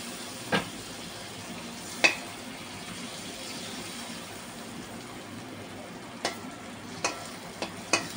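Butter melts in a hot pan with a soft, steady low sizzle, broken by several sharp clicks and taps of a utensil against the pan, with no speech.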